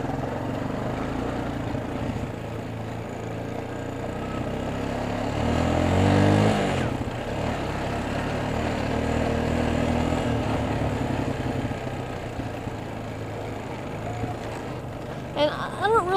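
Semi-automatic four-wheeler ATV engine droning steadily while being ridden, with a louder surge as it revs around the middle, continuous broadband rumble throughout and wind noise.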